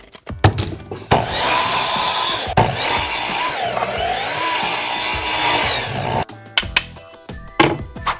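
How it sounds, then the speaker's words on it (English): Pine boards, 3/4 inch thick, being cut into 4-inch pieces with a power saw: a long, loud, steady cutting whine running through the middle of the clip, bracketed by short clatters and knocks of wood being handled, with no talk. "Now we'll use the piece that we just cut off, and we'll cut 2 more pieces at 4 inches."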